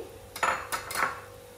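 Uncooked rice tipped into a cooking pot for kichidi, giving three short, close rattling clatters against the metal, with a quiet background and no talking.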